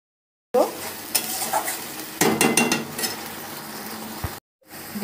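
Ground spice paste frying in a pan for a mutton liver curry, a close sizzle broken by scraping stirs and utensil knocks against the metal, with a short silent gap near the end.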